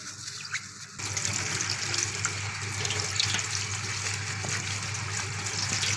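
Tap water gushes steadily into a kitchen sink while bitter gourds are rinsed, a continuous close splashing stream starting abruptly after a second.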